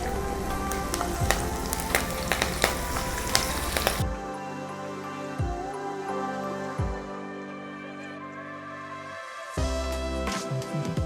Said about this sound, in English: I'll fry the green beans.